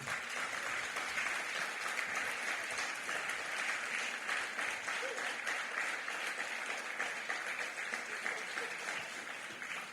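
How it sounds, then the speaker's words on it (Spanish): A church congregation applauds, sustained dense clapping from a large crowd filling the room evenly for the whole stretch, with faint voices mixed in. "Él se merece la gloria y el aplauso también."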